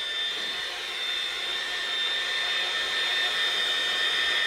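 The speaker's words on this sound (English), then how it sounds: "I've got a hair dryer or a craft tool here" A hair dryer blasts air onto wet watercolour paint, a steady, close, even whine and rush that holds constant throughout with no talk.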